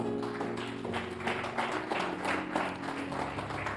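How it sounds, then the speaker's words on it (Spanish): A church congregation applauds during a sermon, a steady wash of many hands clapping at moderate distance, sustained for several seconds without talk. "Dale un aplauso a eso, aleluya."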